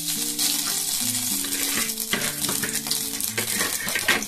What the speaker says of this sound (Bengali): তেল গরম হয়ে গেছে। এখানে ফোড়ন আমি কিচ্ছু দেব না, শুধু দেবো একটা শুকনো লঙ্কা।